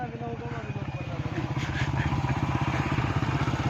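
A motorcycle engine on a rough dirt track keeps up a steady, close, pulsing throb that grows slightly louder toward the end.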